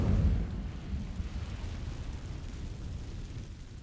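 An Incendio fire spell igniting dry vines in Hogwarts Legacy: a deep whooshing burst up front settles into a steady low rumbling roar of flames that slowly fades.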